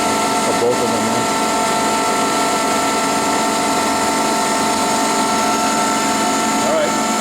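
A Fives Cinetic RK 350-20 twin-grip CNC centerless grinding machine runs with a steady, dense mechanical whir and hum, holding at a constant level throughout, with a voice speaking over it.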